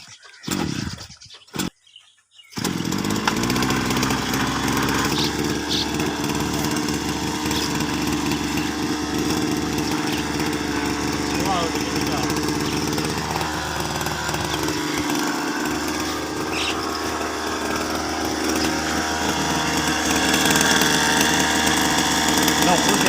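A motorcycle-mounted service pump in Pakistan sputters through a couple of short bursts, then its small engine settles into a loud, continuous buzzing roar that carries on for roughly twenty seconds and swells louder toward the end.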